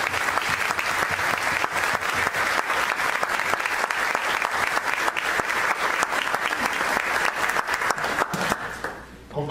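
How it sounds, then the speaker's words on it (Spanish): Applause from an audience at a 2017 academic innovation conference opening ceremony, steady dense clapping that fills the room for nearly ten seconds and thins out at the very end. "le brindemos un especial aplauso"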